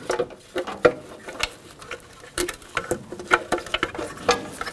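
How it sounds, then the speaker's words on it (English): Small clicks and ticks as a parking light bulb socket is slid into its housing on a 1999-2007 GMC Sierra 1500, a series of close, light plastic taps and scrapes with no talking. "Slide the socket in."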